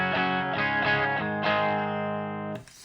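An electric guitar, a Stratocaster through a Walrus Audio overdrive pedal, plays a few sustained chords with light overdrive, ringing out and fading, then stopping abruptly.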